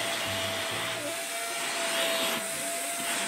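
An indoor vacuum cleaner runs steadily, a loud, continuous whooshing roar with a thin high whine, unbroken throughout.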